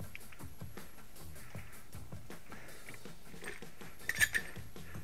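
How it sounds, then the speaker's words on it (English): Metal C-clamp being slid into place against the front brake caliper of a Toyota Celica GT4 Gen 6, a run of light metallic clinks and taps with a brighter clink near the end, close and fairly quiet. "slide the C-clamp in place and then start pushing the caliper back in"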